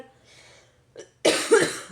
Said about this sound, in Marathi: बोलत बोलतच खोकला होतोय